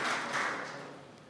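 A church congregation bursts into applause for a member, a dense wash of clapping from many hands that fades over about a second.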